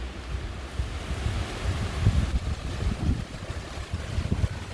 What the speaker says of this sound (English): And more wind.